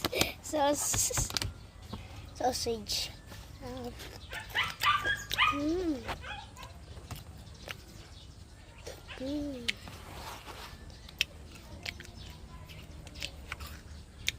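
Dogs bark and yelp in scattered bursts, some whimpering in between, with birds chirping and a voice talking faintly in the background.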